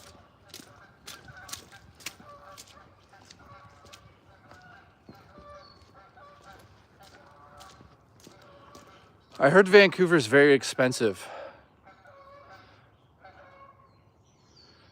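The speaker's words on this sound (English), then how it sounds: "a bunch of geese just flew overhead" A flock of geese flying overhead gives a loud burst of honking for about two seconds, rising above quiet outdoor background while a person talks before and after on a hike.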